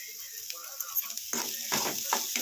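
Finely chopped cauliflower being stirred and roasted in a pan, a soft steady sizzle with scraping stir strokes growing busier toward the end, close and quiet.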